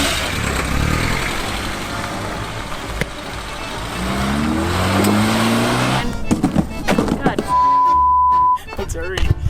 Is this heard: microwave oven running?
no